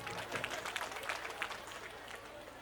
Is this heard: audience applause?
yes